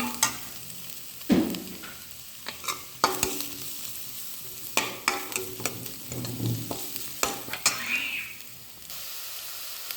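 Onions frying with a little salt on a medium flame, stirred with a spoon: a sequence of sharp scraping and clattering strokes over a low sizzle, close by and without speech.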